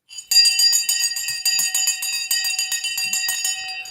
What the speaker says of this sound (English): let me ring the bell